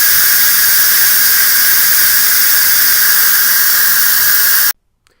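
Loud, continuous high-pitched steam hissing from an Instant Pot's pressure release valve while cooking Italian pot roast with potatoes. It holds steady for several seconds, then cuts off abruptly into near silence.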